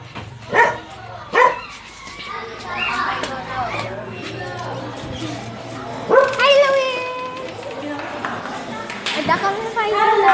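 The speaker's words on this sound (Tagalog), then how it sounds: "Oh my god, may aso." A dog yips and barks in short bursts close by, with people talking over and between the barks.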